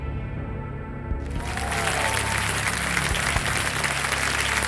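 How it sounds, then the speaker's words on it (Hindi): Studio audience on a TV quiz show bursts into sustained, loud applause for a contestant, steady clapping filling the room after a brief quieter lead-in. "तालियां बज जाए अंशुमन के लिए"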